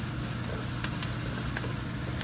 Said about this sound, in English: I've now added the garlic after the onions